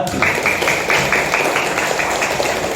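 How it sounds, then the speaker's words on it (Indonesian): A class of children applauds a classmate after her story: steady, fairly dense clapping from a small group, close by and continuous throughout. "tepuk tangan buat Najwa"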